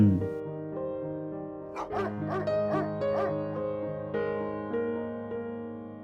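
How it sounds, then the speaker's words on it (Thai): A dog barks in a short burst of yelps and whines over sustained, steady musical tones, no talking. "ได้ยินเสียงหมาทั้งเห่าทั้งหอน"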